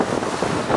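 Strong wind on a sailboat on Lake Ontario at 18 to 19 knots, a loud steady rushing buffet against the microphone, mixed with water noise.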